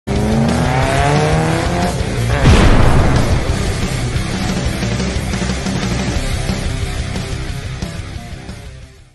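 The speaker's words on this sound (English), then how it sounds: "we're gonna take 28 Roadster for a ride" A 1928 Roadster car drives on a rainy road in cold weather, its engine loud and close with a sustained revving drone, a brief surge of wet tire and spray noise, then a gradual fade.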